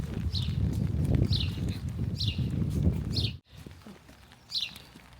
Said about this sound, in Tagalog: Ibon lang ang mga maririnig mo.